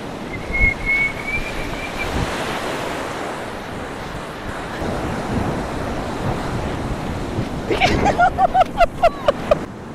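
Waves roll steadily onto the shore of Chilika Lake, a loud continuous wash of surf with gusts of wind buffeting the microphone throughout.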